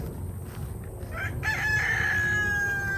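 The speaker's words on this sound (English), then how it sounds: "That's Elvis, our rooster." Elvis, a rooster on a Florida mango fruit farm, crows once in a drawn-out call at mid distance over a steady outdoor background hum.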